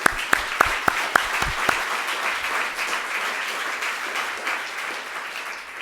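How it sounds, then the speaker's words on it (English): A dinner audience at a policy conference award event breaks into applause, a few distinct claps at the start swelling into a broad, even wash of clapping that slowly fades, heard from within the room. "Let's give her a round of applause,"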